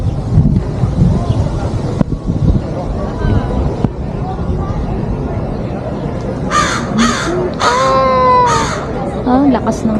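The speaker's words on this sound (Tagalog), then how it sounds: "Ang lakas ng crow." Several loud, harsh caws from a crow ring out in the second half, over steady wind buffeting and a low rumble outdoors near Banff.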